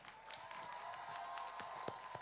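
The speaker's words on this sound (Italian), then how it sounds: "E allora io vi chiedo un grandissimo applauso" Applause for last year's cosplay champion Astra on the RiminiComix stage: a faint, distant, continuous patter of clapping with a few sharper claps standing out and a steady tone beneath.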